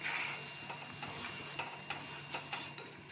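Spices with turmeric, salt and green chillies sauté in a pan for a prawn malai curry, a low sizzle under repeated light clicks and scrapes of a spatula stirring, fairly quiet and with no talking.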